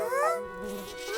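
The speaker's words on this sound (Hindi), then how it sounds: "मच्छर" Whining mosquito buzz in a Hindi comedy cartoon, a continuous high wavering drone with sliding pitch, close and fairly loud, with no talk over it.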